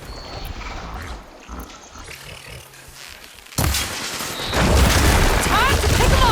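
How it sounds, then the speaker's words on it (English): Glowing crystals detonate in Horizon Forbidden West with loud booming blasts, a sudden explosion followed by a sustained roaring rumble and crackling debris layered with game effects. "See those glowing crystals? Takes one hit to detonate."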